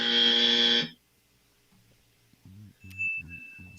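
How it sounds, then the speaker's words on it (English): A sound effect button fires a loud, harsh buzzer tone lasting under a second, followed by near silence and a few short, faint electronic blips. "I love the buzzer."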